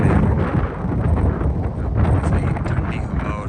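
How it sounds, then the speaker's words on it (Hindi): Strong cold wind blowing through a village in Usho Forest, Kalam Swat, a loud, continuous roaring buffet against the microphone with low rumbling gusts throughout. "सही ठंडी हवा और सही तेज़ हवा चल रही है"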